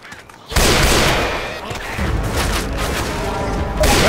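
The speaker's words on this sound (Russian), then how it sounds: "Энси, смотри, куда стреляешь!" Left 4 Dead 2 gunfire bursts out suddenly after a brief quiet moment, a loud dense volley of shots and booms that continues steadily, with a fresh burst near the end.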